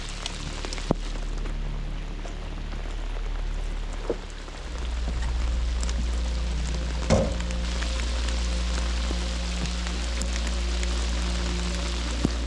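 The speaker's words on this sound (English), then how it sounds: "the rain finally started to come down" Steady rain falls in the Everglades, a continuous even hiss of drops with a low rumble underneath and no voices.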